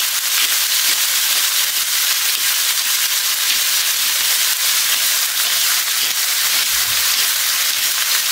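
Ground pepper toasting in a hot pan with goulash, giving a steady, continuous sizzle and hiss that carries on without a break, close and fairly loud.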